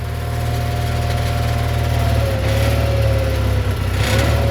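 Garden tractor engine running with a snow blower attached and a cab fitted, a loud, steady close drone with a slight dip in pitch partway through, no speech.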